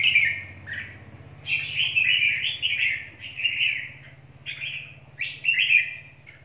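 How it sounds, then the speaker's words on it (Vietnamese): Red-whiskered bulbul, a mountain bird from Lang Son, sings a run of bright, warbling phrases close by, loud and clear with short gaps between them, over a low steady hum. "Chim núi đá Lạng Sơn anh em nhé."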